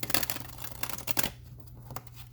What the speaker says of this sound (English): It's the only sign where this deck has shuffled this peacefully. Perfectly. Perfect shuffle.